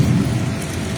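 Steady rain pours during a thunderstorm, a dense, even hiss with a low rumbling undertone from thunder, close and continuous with no voices.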